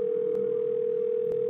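Telephone dial tone from the point-and-click game Thimbleweed Park, a loud steady single-pitch hum held throughout with two faint clicks and no talk.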